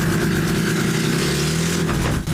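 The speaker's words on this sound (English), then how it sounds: "It's a car. Here's the clip." Peugeot 505 fitted with an OM606 diesel engine driving, a loud, close, continuous mid-pitched engine drone with steady tonal harmonics under broadband road and wind noise, no voices.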